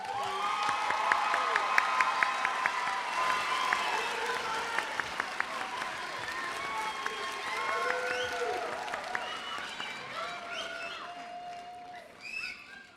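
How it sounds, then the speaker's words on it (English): A large crowd applauds steadily at a school commencement ceremony, dense clapping with scattered cheers and whistles that slowly fades toward the end. "Do we want to give another round of applause because we love them so much?"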